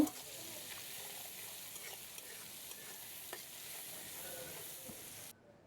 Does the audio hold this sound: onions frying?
yes